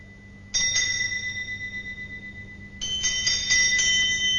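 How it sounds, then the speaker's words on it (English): Old house bells ring out as a radio drama sound effect: a bright jangle of high bells that starts abruptly, wavers, pauses briefly, then rings again louder and keeps ringing to the end. "But soon it rang out loudly, and so did every bell in the house."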